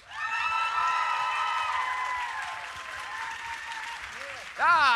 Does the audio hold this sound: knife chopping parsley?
no